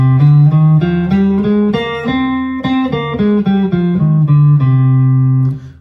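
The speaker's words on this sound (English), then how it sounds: "C Aeolian sounds like this." Clean guitar plays a C Aeolian scale, about a dozen distinct notes climbing and then descending in an even rhythm before ringing out on a held low root, close and loud.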